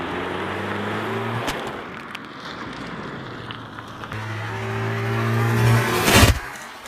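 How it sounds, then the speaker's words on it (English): A car rolls up and drives over a dropped Samsung Galaxy S6 Edge or iPhone 6 smartphone, engine humming and revving close by, then a sharp crunching burst near the end; no talk. "I want to know how it fares against a car running it over."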